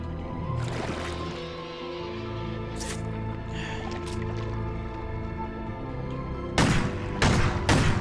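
A few loud shotgun blasts boom in the horror video game Crow Country over a steady background drone, with a faint burst early on and two heavy shots near the end.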